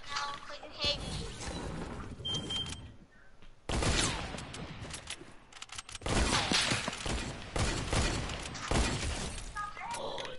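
Video game gunfire in a dense, loud barrage of cracking shots and shattering impacts, mixed with game noise and someone talking over it.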